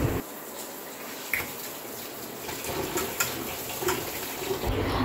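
Radish greens frying in a pan, a soft steady sizzle with light stirring clatter and occasional sharper scrapes, fairly quiet and without speech.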